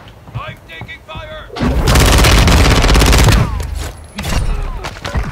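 Gunfire erupts in Call of Duty Warzone as a loud burst of rapid shots lasting about two seconds, with further shots after it. Players talk over voice chat before and after the firing.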